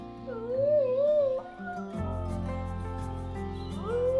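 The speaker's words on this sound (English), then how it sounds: "Might do your head in with all the howling though." Dingoes at Healesville Sanctuary in Australia howl in long, wavering, overlapping cries, loud and close, with a steadier sustained tone joining partway through.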